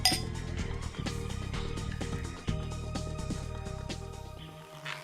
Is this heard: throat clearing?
no